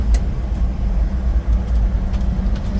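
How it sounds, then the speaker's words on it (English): A car driving on a Montana gravel road, tires flinging stones against the underbody in a steady low rumble with scattered clinks, close and continuous, engine and road noise throughout, windows down. "Now we're throwing gravel."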